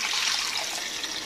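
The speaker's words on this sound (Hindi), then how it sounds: "इसके अंदर हम पानी ऐड कर देंगे" Water pours steadily into a cooking pot holding cardamom for a chicken and potato dish, a bright continuous splashing rush, close and loud with no talking.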